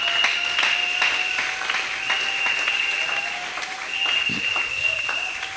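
A church congregation applauding, a steady wash of clapping that holds through the whole stretch at moderate loudness, with a bright held tone and some voices mixed in.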